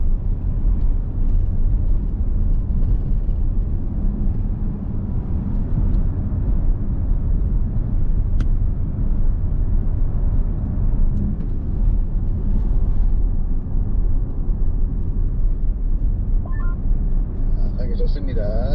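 A Kia car accelerates along a short straight on a circuit during a driving lesson, a continuous loud low engine rumble with road noise heard from inside the cabin, steady throughout, while an instructor talks over it.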